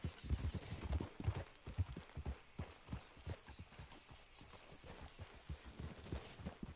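Horse hooves in the video game Red Dead Redemption clip-clop steadily at a walking pace, a continuous rhythmic clatter with no voices.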